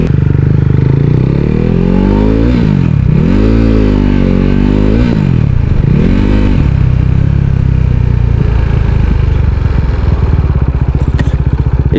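A 390cc motorcycle engine runs close and loud during emergency braking with the front brake and clutch, its pitch dipping and rising several times as it slows into first gear, then settling into a steady idle-like chug.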